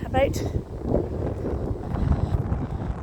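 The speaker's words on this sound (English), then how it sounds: "That wind's strong." Strong wind gusting across the microphone on a road beside allotments, a steady close rumble with a voice talking over it.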